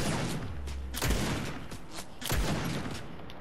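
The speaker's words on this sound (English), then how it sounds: "Oh, why are they all shooting at me?" Gunfire in the Fortnite video game, with two heavy booming shots and bursts of rapid firing over a continuous noisy game soundscape, loud and without talk.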